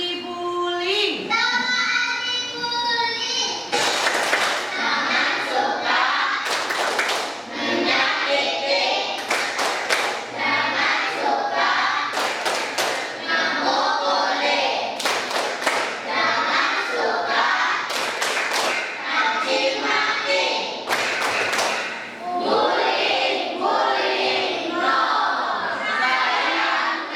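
Classroom children doing an anti-bullying clapping chant, shouting in unison with bursts of sharp, synchronized claps in a repeated rhythm, loud and close, with a teacher's voice at the start.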